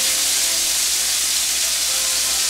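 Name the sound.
pineapple slice sizzling in a hot pan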